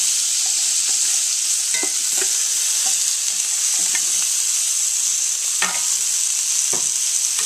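A pimento cheese burger sizzles loudly and steadily in a pan, with scattered clicks and scrapes as tongs lift it out. No one speaks.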